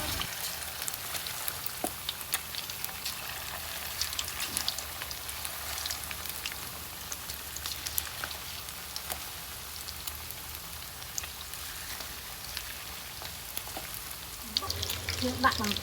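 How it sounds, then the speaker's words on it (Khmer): Chicken wings sizzle and crackle steadily in hot oil, a dense, continuous frying hiss with small pops throughout, close and fairly loud, with a brief louder clatter near the end. "ពេលនេះខ្លាញ់របស់យើងបានក្តៅហើយយើងអាចដាក់ស្លាប់មាន់យើងចូលបានហើយ"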